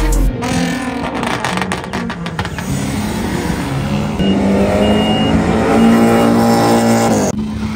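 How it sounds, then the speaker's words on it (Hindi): Cars driving in and out at a busy university auto show in Islamabad, engines revving and accelerating close by with tire noise and loud passing vehicles, a dense continuous roar of mixed motors. "जोरों शोरों से गाड़ियाँ कुछ निकल रही हैं कुछ आ रही हैं।"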